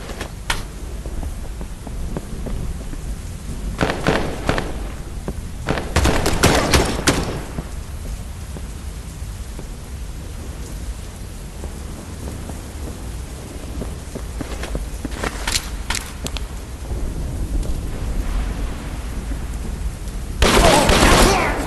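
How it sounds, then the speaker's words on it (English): AK rifle fired in a virtual reality shooting game: several short, loud bursts of rapid shots separated by quieter stretches of background noise. "It's gonna be my first time using this AK, so I might be a little rusty on aiming with it."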